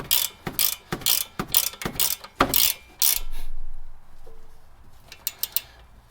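A wrench ratchets in quick bursts of sharp clicks while tightening a bolt on a Toyota Corolla strut assembly, followed by a brief low hum and a few faint clicks, close by with no talking.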